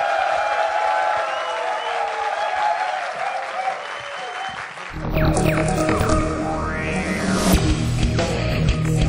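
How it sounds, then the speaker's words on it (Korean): Sustained audience applause fills a talk concert hall as the featured guest is welcomed, dense clapping for about five seconds that then gives way to music and a louder mix with crowd sounds. "큰 박수 부탁드립니다"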